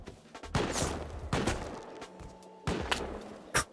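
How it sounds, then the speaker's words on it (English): Bursts of gunfire in the survival game Rust, several sharp volleys and thuds spread across a few seconds, fairly loud with rough, noisy texture between them. "they're all shooting at each other"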